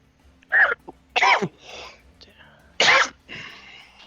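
Several sharp, loud sneezes burst out in quick succession, separated by brief pauses, with quieter breaths and soft vocal sounds between them during a tabletop role-playing game session.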